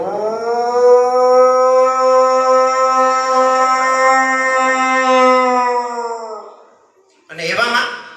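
A person's voice imitates village dogs howling, a long sustained wavering howl lasting several seconds, loud and close, followed by a brief burst of another voiced sound.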